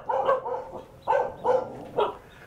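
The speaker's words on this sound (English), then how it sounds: "Let's hope that dog can't get out." A dog behind a fence in a residential area barks in short bursts, about five sharp woofs in irregular clusters, moderately close, with no talk over them.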